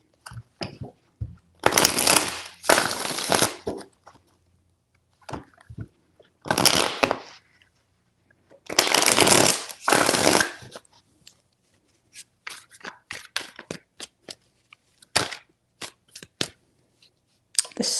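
Tarot cards are shuffled in several separate bursts of riffling, close and crisp, with scattered taps and handling noises between them.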